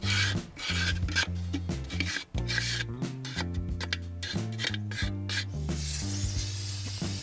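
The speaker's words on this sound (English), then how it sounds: "now it's time to start scraping that grease out of the grill" Repeated rasping scrapes, close and rhythmic, as the back of a plastic spatula scrapes grease from a Weber Q grill, over a steady low musical backing.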